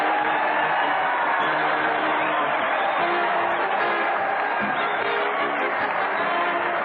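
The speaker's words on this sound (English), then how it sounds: "The crowd's cheering Fred Allen and Portland as they march down from Maine" A studio audience at a 1936 radio comedy broadcast cheers and applauds in a steady, dense roar that fills the whole stretch, heard through old, band-limited recording.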